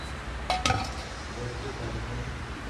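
Metal cooking pots and a frying pan clank twice in quick succession near the start, followed by quiet room noise with a faint low hum.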